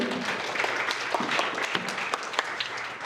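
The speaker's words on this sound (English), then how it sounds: "Can we have another round of applause for the bride and groom?" Wedding guests give the bride and groom a round of applause at the reception, a steady wash of many hands clapping at moderate volume, with no talking over it.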